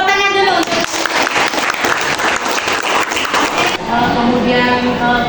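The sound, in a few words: classroom applause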